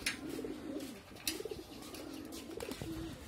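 Rooftop pigeons coo in rolling, repeated phrases while bathing in alum water, several birds nearby with a few sharp splashes or wing flicks between calls.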